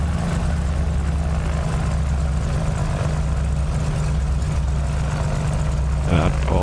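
Twin-engine aircraft engines idling at about 1,000 RPM, a loud, close, steady propeller drone with a deep throbbing low hum that holds without a break, with a brief click and rustle near the end.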